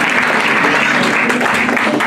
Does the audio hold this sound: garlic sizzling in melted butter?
no